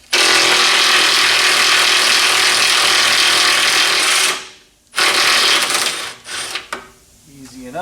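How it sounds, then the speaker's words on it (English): A ratchet working on the control arm bolts of a Chevrolet Malibu in a garage, a loud continuous mechanical whirring and rattling for several seconds that stops abruptly, followed by a few shorter bursts and clanks. "I just got 2 bolts to take out, drop my control arm out"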